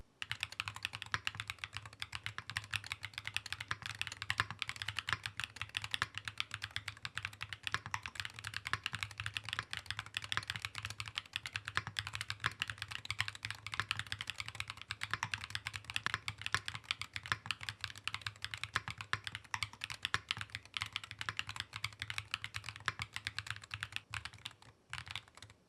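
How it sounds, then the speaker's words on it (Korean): Steady, fast typing on an MCHOSE ACE68 8K rapid-trigger magnetic-switch mechanical keyboard, dense crisp clacks running continuously for the whole stretch at close range with no voices. "바로 타건해 볼게요."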